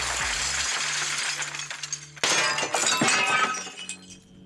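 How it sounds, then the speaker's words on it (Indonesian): Glass shatters loudly and close, a dense burst of breaking shards followed by a second crash and tinkling fragments scattering and settling. "Dan tentu saja alat ini butuh mengenal suara pecahan kaca."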